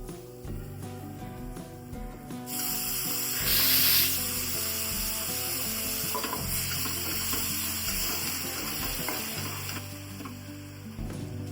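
Tomato puree hitting a hot pan for paneer butter masala bursts into a loud sizzle that settles into a steady fry, with stirring and clinks over background music and no speech.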